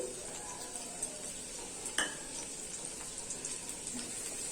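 Half a large onion, sliced, is tossed in about two tablespoons of hot oil in a pan over high heat, giving a quiet continuous sizzle with a few soft clinks and scrapes of the pan.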